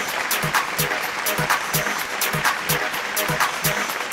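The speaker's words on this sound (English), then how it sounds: "A round of applause for Mr. Nitin Jadhav" Applause at a style awards event in Maharashtra honouring an emerging oil businessman, with the crowd's clapping running alongside a regular thumping beat that pulses steadily beneath it.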